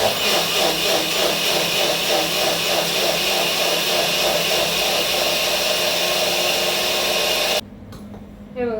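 Mixer grinder whirring loudly and steadily as it grinds fasting dosa batter with water and baking soda into a paste in its jar, then cutting off abruptly near the end.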